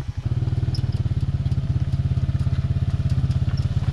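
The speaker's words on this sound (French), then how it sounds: "C'est un frein moteur pour la descente?" A close Can-Am quad engine, engine braking on a descent, thrums in a fast, regular pulsing rhythm, loud and steady throughout, with faint clicks and rattles above it.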